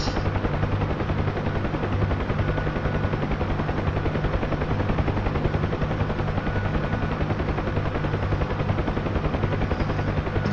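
A Huey helicopter in a video game drones with a steady, loud rotor and engine roar that stays constant throughout, a dense unbroken mechanical thrum with no talk.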